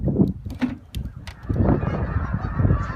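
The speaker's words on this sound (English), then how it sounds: "Look at all the geese." Migrating geese honk repeatedly outdoors, a cluster of overlapping calls rising and falling at moderate distance against a steady breeze-like background hiss.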